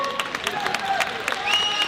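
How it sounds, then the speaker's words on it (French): Audience applause at a bodybuilding contest in the men's physique and bikini categories, a steady patter of clapping from a crowd with a voice calling out over it. "Allez, on les applaudit très fort."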